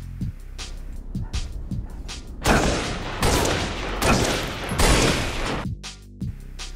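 Bursts of DMR rifle fire in Halo Reach, a sharp shot cluster early then several loud, dense multi-round volleys in close succession, with reverberant tails between them.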